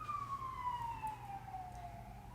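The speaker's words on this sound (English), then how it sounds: "Why are there so many ambulances this morning?" An ambulance siren wails from a distance, one long descending tone over low traffic rumble, faint and unaccompanied by talk.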